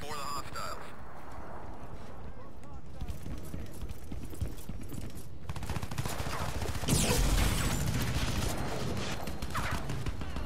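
Gunfire in the shooter game Crysis 3, dense bursts of shots mixed with game noise, with a louder volley near the end, under someone talking.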